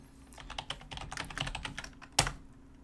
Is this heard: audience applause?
no